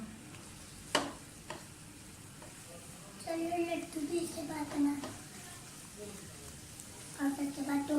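Besan and egg halwa with pistachios and almonds being roasted in ghee, with a low sizzle and bursts of scraping stirring against the pan, some sharp taps, and a voice talking over it.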